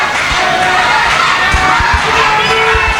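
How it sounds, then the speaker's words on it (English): A wrestling crowd cheers and shouts at an indoor show, a loud, sustained roar of voices with some thuds from the ring underneath. "The crowd getting behind Jacob. They're starting to come alive tonight"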